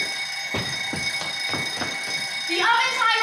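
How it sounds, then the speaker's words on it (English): A kitchen oven timer buzzing in a home, a steady electronic tone held under several short thumps and a person's voice starting up near the end. "The oven timer is buzzing."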